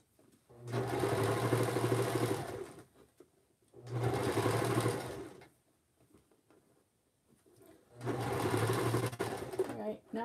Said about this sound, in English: now I put it on zigzag and I stitch just a little closer to the edge